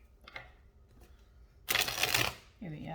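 A deck of tarot cards is riffled in one quick rustling burst after a few light taps and handling clicks, followed by a short bit of voice.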